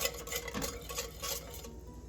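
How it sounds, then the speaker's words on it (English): Salt being whisked into plantain porridge in a pot, a quiet run of light rhythmic scraping and ticking strokes over about two seconds, close by with no talk. "I'm gonna go in with my salt, just about half of a teaspoon. Just whisk it around."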